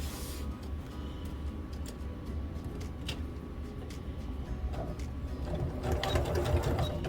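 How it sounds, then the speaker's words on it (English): A sewing machine stitches a quarter-inch seam joining two cotton quilt squares, a steady rapid whirring hum that runs unbroken and close, building slightly louder toward the end with no voices. "I'm going to stitch this seam."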